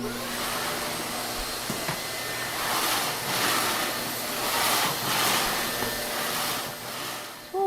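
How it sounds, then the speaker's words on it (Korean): A household vacuum cleaner runs indoors with a loud, steady roaring whoosh that swells and dips slightly as it moves across the floor, heard alone with no voices throughout. "그리고 이제 와서 청소기 돌리려고요"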